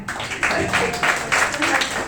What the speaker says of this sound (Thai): ขอเสียงปรบมือให้พัทธิดาด้วยค่ะ